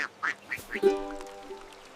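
A cartoon duck in a children's counting nursery rhyme gives a few quick, nasal quacks, then a longer drawn-out quack over soft backing music, fairly close and clear.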